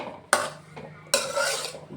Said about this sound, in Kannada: ಸ್ವಲ್ಪ ಟೊಮೆಟೊ ಫ್ರೈ ಆಗಲಿ